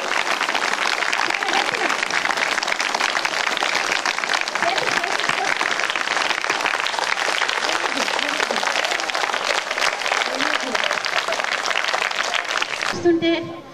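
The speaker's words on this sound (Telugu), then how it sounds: "ఓకే, క్లాప్స్ కొడదాం అందరము." School students at a ZPHS meditation camp clap together after a silent meditation session, giving dense, sustained applause that fills the room for over ten seconds before it stops abruptly.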